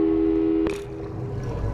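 Telephone busy signal from the video game Portal 2: a steady, loud electronic tone that cuts off abruptly after a short click, leaving low background hum.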